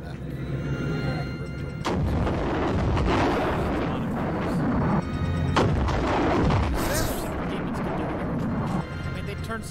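Exploding gun firing in the video game High On Life, a run of heavy booming blasts and bursts over a dense, loud rumble that barely lets up for nearly ten seconds.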